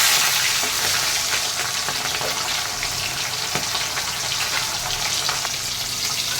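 A flipped pomfret fish fries in hot oil, giving a continuous close hiss and crackle at an even level throughout, with no voices.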